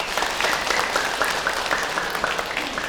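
A studio audience applauds an Islamic preacher on a television dakwah program, a steady, even wash of many clapping hands held at moderate loudness throughout with no voices over it.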